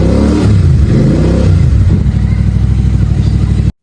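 A Royal Enfield GT650 motorcycle engine runs close and loud after a cold start, with a brief rev that rises and then falls back to a steady, throbbing idle. The engine is heard alone.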